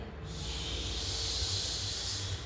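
A voice imitates wind with a sustained breathy whooshing hiss, held steadily for about two seconds, close and fairly loud, with no other sound around it.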